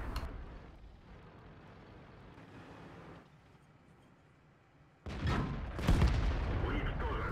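Tank guns fire 203 mm armour-piercing rounds in a video game, with dull booms early on and a loud burst of heavy blasts and impacts in the later part of the clip.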